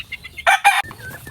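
A rooster crows once, loud and close, among farmyard chickens of Golden Boy and White Kelso breeds, with soft clucks and chirps around the call.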